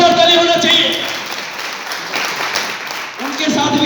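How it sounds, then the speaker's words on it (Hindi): Applause from an audience at a Modicare gathering swells into a steady wash of clapping, partly under a voice speaking Hindi. "एक जोरदार ताली होना चाहिए।"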